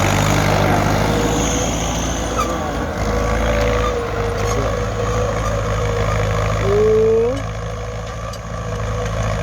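A Ford 6600 tractor engine runs steadily while plowing a field, with a continuous low, heavy drone that stays loud and even throughout.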